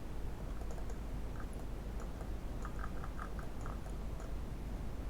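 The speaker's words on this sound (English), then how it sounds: "press BX on my keyboard to create a box section" Typing on a computer keyboard: faint, scattered key clicks in short irregular clusters over a steady background hiss, with no talking.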